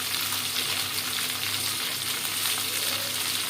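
Long beans (barbati) frying in a pan, a dense, steady sizzle with a faint hum underneath, close and continuous, no talk.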